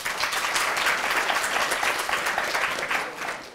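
An audience at a live conversation event with politician Jacob Rees-Mogg applauds after a question from the floor, a steady, dense burst of clapping from many hands that holds throughout without speech.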